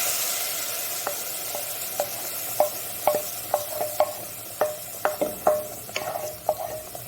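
Spatula stirring ground masala into a sizzling frying pan for a Mangalore-style methi-flavoured pony fish curry, with steady close scraping strokes over continuous frying hiss and no voices.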